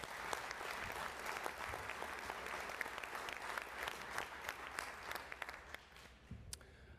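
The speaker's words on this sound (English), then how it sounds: "So please give our military spouses a big round of applause." A conference audience applauds military spouses at an Army association summit, dense, sustained clapping from many hands in a large hall, heard throughout the clip and easing slightly near the end.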